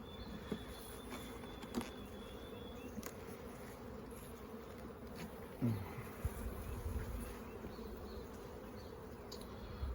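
Honey bees buzz around an open hive in April during a changeover to a single brood chamber, a steady, quiet hum with passing closer buzzes and faint handling knocks.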